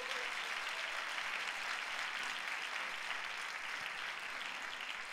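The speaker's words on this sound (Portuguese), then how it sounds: "eu acho que isso merece um aplauso para o Senhor Jesus." A church congregation breaks into sustained applause, a dense, even wash of clapping that holds steady and fills the space throughout.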